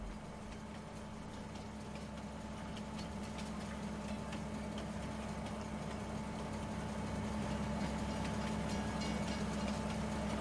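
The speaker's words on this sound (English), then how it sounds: "I can get closer to the train, it'll make some noise." Train running in Farming Simulator 19 gives a steady, quiet low mechanical drone with faint ticking, continuous and unchanging throughout.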